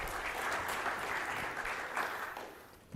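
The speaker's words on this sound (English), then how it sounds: "Let's give her a round of applause and welcome her." Audience applause fills a conference hall as a congresswoman is welcomed onstage at a Semafor policy event, a steady dense clapping that holds loud for most of the span, then thins and tapers toward the end.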